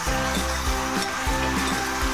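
Chicken being stirred with rock salt and turmeric in a large pan, a busy sizzle under repeated scraping strokes of the spoon at a steady rhythm, close and fairly loud.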